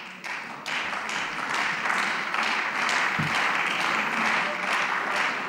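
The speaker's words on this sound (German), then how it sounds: "Applaus" Members of the Berlin state parliament applaud during a plenary session, a broad, steady wash of clapping from many hands that swells quickly and holds at a constant level, with a brief thump in the middle.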